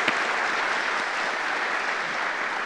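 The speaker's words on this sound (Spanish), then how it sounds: "me gustaría pedir un aplauso para el equipo que se acaba de mover" Conference audience applauding at a .NET Conf keynote, a dense, steady clapping from a crowd lasting a few seconds, fairly near and without speech.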